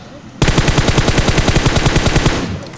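Rapid automatic gunfire in a shooting video game, a loud sustained burst of evenly spaced shots lasting about two seconds before cutting off.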